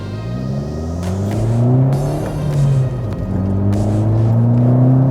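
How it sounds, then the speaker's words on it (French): A limited-production car accelerates from a standstill in normal drive mode, engine note rising through several gear changes with brief dips between pulls, loud and close. "on va faire notre petite accélération, c'est bien, on est à l'arrêt et on est en mode normal"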